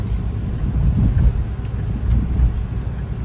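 Car driving along a road at about 50 km/h on the way home from a Lidl shop, a steady low rumble of engine and road noise with wind buffeting, continuous and close.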